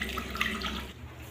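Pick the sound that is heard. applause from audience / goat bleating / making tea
making tea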